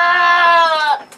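A Boer goat lets out one loud, close, drawn-out bleat with a strong wavering tone, trailing off into a faint short breathy call.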